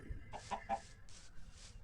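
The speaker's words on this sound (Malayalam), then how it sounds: "ഇവിടെ ഒരു കോഴി ഇപ്പോൾ ഉണ്ട്, ഒന്നിനെ പിടിക്കാം" Minecraft chicken giving a few soft, quick clucks in a row, close but quiet against a faint background hum.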